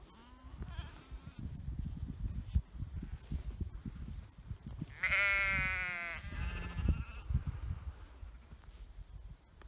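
A single sheep bleats loudly midway through, a wavering call of about a second and a half, set against steady outdoor rustling and thumps in a paddock where sheep and pigs graze behind a one-wire fence.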